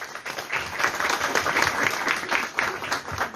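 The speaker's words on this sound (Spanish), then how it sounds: "Muchas gracias. Un fuerte aplauso" An audience at a talk on preventing adolescent pregnancy applauds, a steady wash of many hands clapping at moderate volume, with swells and slight dips across the few seconds.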